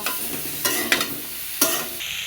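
Eggplant and sweet potato fry in a pan with turmeric and salt, a steady sizzle broken by several sharp scrapes of stirring.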